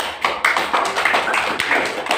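Applause from a classroom of students, a quick burst of hand claps, several people clapping unevenly, fairly close and loud, lasting about two seconds.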